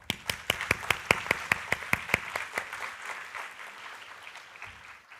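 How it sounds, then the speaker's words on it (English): A conference audience applauds panelists, crisp claps that are distinct and rhythmic at first, then blur into a softer patter that fades out. The crowd sounds modest in size, with no voices over it. "please join me to thank our panelists with a big applause"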